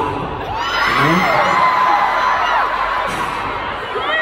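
A large K-pop concert crowd at KCON LA screams and cheers loudly, a sustained roar of high shrieks and whoops filling the arena, with a few voices rising above the mass.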